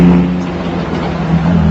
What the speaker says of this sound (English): It drives very much like a modern car, but with all the essence of a 1930s sports car.